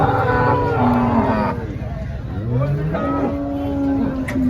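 An HF cow unloaded at a busy cattle market gives long, loud moos, one after another with rising and falling pitch, close by over crowd murmur and vehicle noise.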